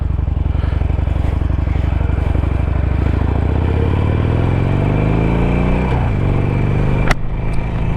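A 2021 Harley-Davidson Iron 1200 with Screaming Eagle pipes rumbles loudly and steadily up close, its engine pitch sweeping down as it decelerates, with a sharp clack near the end.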